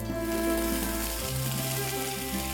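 Green peas dropped into a pan of frying green chillies and curry leaves, raising a loud, steady sizzle that crackles close up and carries on without any talking.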